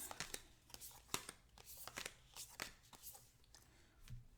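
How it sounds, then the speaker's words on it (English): Tarot cards are being shuffled by hand, a quick series of soft riffling snaps and papery flutters in irregular bursts, faint and close, with no talk over it. "I shuffled a little bit too long."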